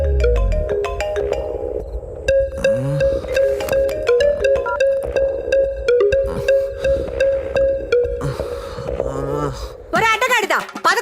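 A phone rings with an incoming call in a Telugu film scene, its repeating melodic tone looping for several seconds under people talking.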